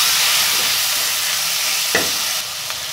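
Tomatoes sizzle in a pan of bitter gourd and onion curry, a steady close hiss with a single scrape of stirring partway through and no talk.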